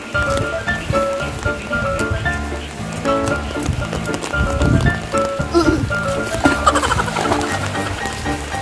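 Steady rain falls over rice paddy fields, a dense, continuous patter at fairly loud level throughout, with scattered speech mixed underneath.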